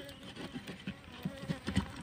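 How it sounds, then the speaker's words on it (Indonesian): Asian honey bees (Apis cerana) drone close by around their nest, with a low hum that swells and fades as bees fly past in short bursts. "ini masih ada lebah yang eh, kesana kemari lah"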